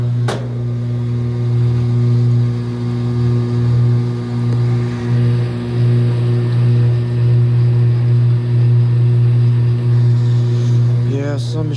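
A Whirlpool direct drive washing machine runs its spin cycle, producing a loud, steady low motor hum with strong tonal drone and faint rattling, close and continuous throughout.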